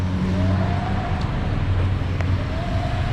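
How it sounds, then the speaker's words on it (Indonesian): Busy street traffic in Batam, Indonesia, a steady loud rumble of many car engines close by, with a passing vehicle's rising whine and a few faint higher tones over the drone. "Banyak sekali mobil di sini."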